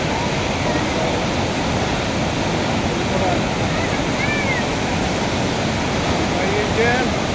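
Deep water forcing through a narrow channel, a loud continuous roar and rush close by, steady throughout with faint voices and a few high chirps barely audible underneath.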